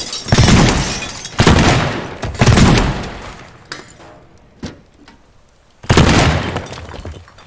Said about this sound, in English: So I smash the glass, go back to my shotgun.